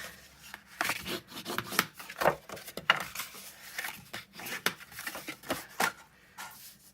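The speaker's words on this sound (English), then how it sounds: "we're going to fold and burnish all the score lines" Folded cardstock being burnished along its score lines, a series of short dry rubbing and scraping strokes in an irregular rhythm, close and fairly crisp, with no talking.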